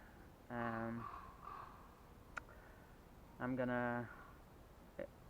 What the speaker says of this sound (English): listen to the sound of birds, not only crows that you hear now